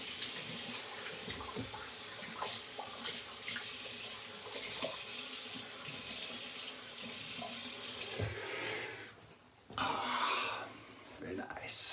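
A bathroom tap runs steadily while a razor is rinsed during a wet shave, with splashing changing as the water is interrupted, plus a brief throat clearing.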